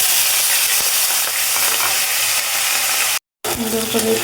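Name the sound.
potatoes and fish frying with cumin in oil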